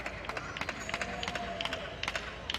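Sharp, rhythmic claps ring out from fans at an Ultimate frisbee game, steady strong hand claps over a distant crowd murmur, with a commentator talking at times.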